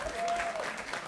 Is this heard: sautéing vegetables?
no